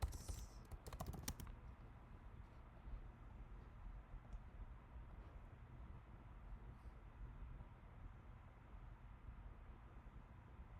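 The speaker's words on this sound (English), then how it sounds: "And then let's type hobby box." Close, quiet typing on a computer keyboard, with a quick burst of clicky keystrokes at the start and then soft scattered taps over low room noise.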